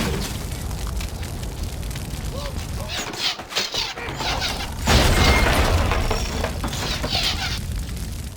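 Missile explosion destroying a trebuchet in the siege game Stronghold 2: loud, rumbling blasts and crackling debris over continuous battle noise, with a heavy burst midway that lingers.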